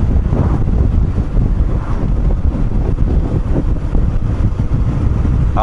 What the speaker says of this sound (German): Da war das sehr, sehr windig, wir hatten also ordentliche Wellen am Strand.